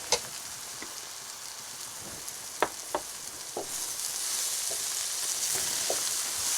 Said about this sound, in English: we're going to add the tomato